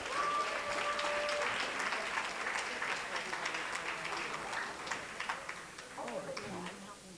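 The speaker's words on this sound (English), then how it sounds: "please give a big round of applause for Dr. Connie Stapleton." A seminar audience applauds a speaker. Full, lively clapping, with a brief whistle-like tone near the start, gradually thins out and fades toward the end.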